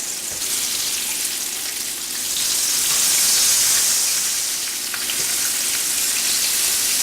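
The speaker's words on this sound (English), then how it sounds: "Okay, let's flip this fish." Fresh fish fillet sizzling loudly in a hot pan just after being turned, a steady dense crackle and hiss that swells briefly in the middle, with no talking.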